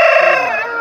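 A single loud, close rooster call rings out at a Thai Pongal rooster market in Athani, a brief strained crow that fades at the end.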